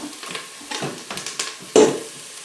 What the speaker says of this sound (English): You can hear that sizzling nicely now.